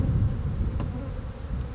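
Honey bees buzz at an open hive in a soft, continuous drone, close by and fairly quiet, with no voices.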